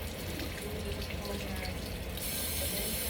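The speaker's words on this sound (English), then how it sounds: "Take a paper towel, turn on my faucet." A bathroom faucet is turned on for hand washing and water runs steadily into the sink, a continuous close splashing hiss that brightens toward the end.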